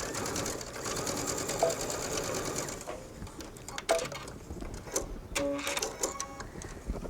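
A sewing machine stitches down a two-part jacket sleeve toward the vent, running steadily for about three seconds, then breaking into short stop-start bursts with small mechanical clicks.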